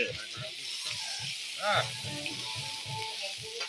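Sausage frying on a Blackstone griddle, a steady, close hiss and crackle that runs throughout, with a brief flare of spatter midway and a faint voice murmuring underneath.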